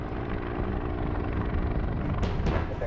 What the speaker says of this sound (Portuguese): Quando o helicóptero voltou ao chão